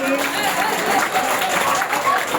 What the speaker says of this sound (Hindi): एक बार जोरदार तालियां इन सभी स्टाफ साथियों के लिए।